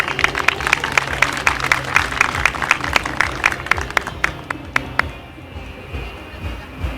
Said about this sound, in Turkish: aramızda bulunan azamız Nurettin Aslan size bir merhaba demek için buraya davet edeyim. Alkışlarınızla tabii